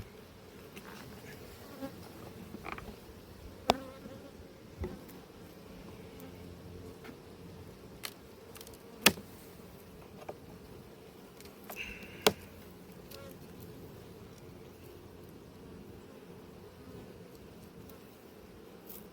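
Honey bees buzz around an open hive at an apiary, a low, steady hum running throughout with scattered sharp clicks and knocks from hive handling on top.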